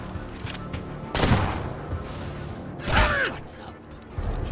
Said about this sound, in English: There should be 2 shots.